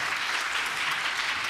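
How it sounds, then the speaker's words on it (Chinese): Applause in the Kaohsiung city council chamber after a deputy speaker election tally, a steady, even patter of many hands clapping at moderate distance, continuous with no speech. "掌声鼓励一下哈。"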